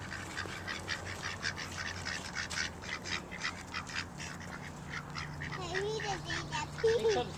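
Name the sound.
ducks quacking while being fed bread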